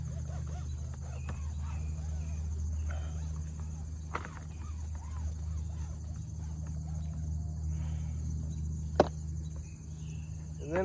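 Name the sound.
cicadas buzzing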